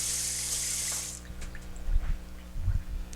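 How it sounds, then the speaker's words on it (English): A kitchen tap runs into a sink for about a second while a lid is rinsed, then stops, followed by close clattering knocks and handling thumps in the sink. "Just make sure that you rinse that lid"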